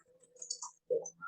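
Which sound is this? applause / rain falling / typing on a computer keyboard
typing on a computer keyboard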